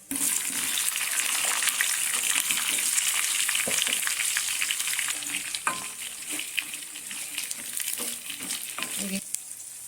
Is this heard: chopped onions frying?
yes